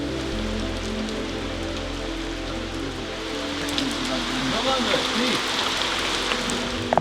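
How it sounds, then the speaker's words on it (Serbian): Heavy rain downpour during a mountain endurance trail race, a dense continuous hiss of drops pounding surfaces, steady and loud, growing slightly heavier toward the end. "međutim tu kreće pljusak."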